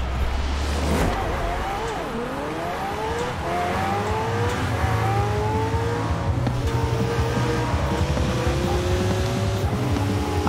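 Car engine in Forza Horizon 4 revving and shifting through gears, rising whine steady and loud across the clip under game music, with a brief thump near the start.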